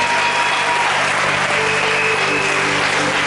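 A church congregation applauding loudly during a Sunday service, a dense, continuous wash of many hands clapping close and sustained, with no pause.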